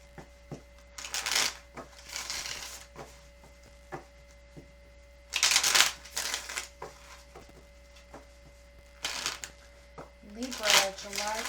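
Playing cards shuffled by hand before a Libra card reading, in several separate crisp riffling bursts with pauses between them, close and distinct, with a brief voice near the end.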